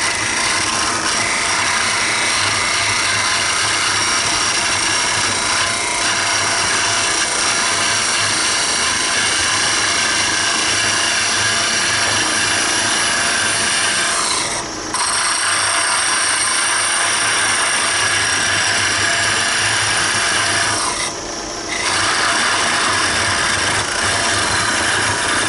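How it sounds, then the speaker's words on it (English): A wood lathe spins a wine stopper blank on a mandrel while a parting tool cuts into it, giving a steady loud whirring scrape with two brief dips where the cut pauses. "I want to use my parting tool and kind of mark the end here for myself."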